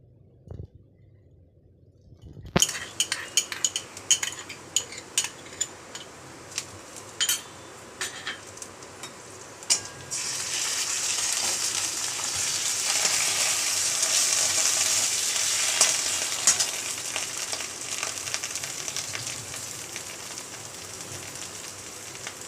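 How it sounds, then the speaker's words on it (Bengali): Cumin paste hits hot oil in a pan for a snake gourd and prawn dish. After a brief silence come crackling spits and stirring clatters, then a loud, dense, sustained sizzle that swells midway and holds to the end. "জিরের বাটাটা দিয়ে একটু নাড়িয়ে নিলাম"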